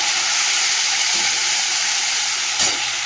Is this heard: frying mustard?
yes